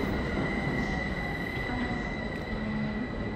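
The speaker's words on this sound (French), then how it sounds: "Et voilà les petits trains." Trains in the hall of Lausanne railway station, with a continuous loud roar of rolling cars and steady high wheel squeal held throughout, no talk over it.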